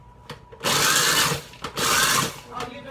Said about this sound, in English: We're going to make cracker crumbs in my Oscar.